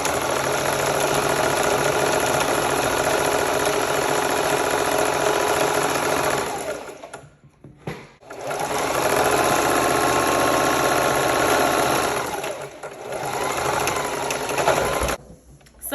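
A sewing machine runs loud and close while stitching an oversized shirt into a dress, a steady mechanical whirr broken by a brief pause near the middle, then resuming with a short halt near the end.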